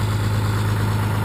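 Diesel truck with a 6.2L Cummins idling through a new 4-inch exhaust and muffler, a steady low rumble with constant hum, close and loud, no other sounds.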